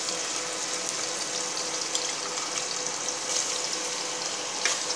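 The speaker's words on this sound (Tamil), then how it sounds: "சிம்மில் வச்சு பச்சை வாடை போகிறது வரைக்கும் கொஞ்சம் நேரம் ஃப்ரை பண்ணிக்கோங்க" Green chilli and ginger-garlic paste fry in a pan on low heat for chicken curry, making a steady, continuous sizzle that stays even and close throughout, with no talking.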